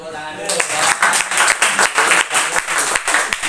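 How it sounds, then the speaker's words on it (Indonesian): Classroom audience claps for student presenters, a dense, steady patter of many hands that starts abruptly and continues loud throughout. "tepuk tangan dulu."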